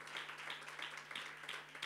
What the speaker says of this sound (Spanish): Dar un fuerte aplauso al Señor